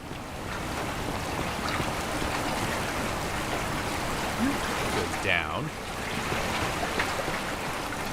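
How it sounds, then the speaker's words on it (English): Running water rushes continuously in the video game The Forgotten City, a loud broadband wash that stays steady throughout while a voice speaks briefly and a few short tonal game sounds pop in. "Hearing a lot of running water."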